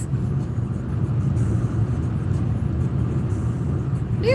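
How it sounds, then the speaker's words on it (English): A car on a narrow mountain road produces a steady low engine and road rumble from inside the vehicle, continuous and fairly loud. "there's a car on my side of the road"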